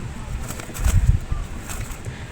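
Soft, low cooing from a dove, a few muffled coos outdoors with faint rustling and distant bird sounds.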